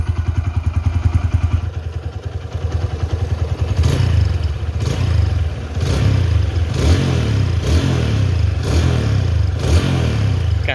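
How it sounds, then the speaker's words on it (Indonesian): Up close, a 2011 Honda Tiger Revo motorcycle ticks over at idle, then its throttle is blipped repeatedly, giving a series of loud, quick revs that rise and drop back in a regular rhythm. "Gasnya lepasnya benar-benar lepas banget gasnya."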